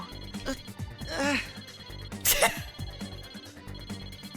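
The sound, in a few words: phone ringing in Persona 4 Arena Ultimax (video game)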